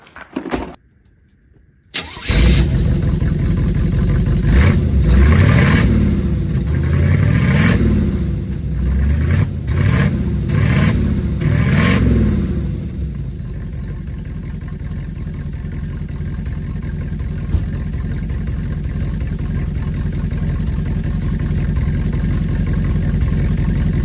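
A 1978 Oldsmobile Cutlass with a new exhaust cranks and fires up, revving loudly in several rising and falling surges before settling into a deep, steady idle, close and alone.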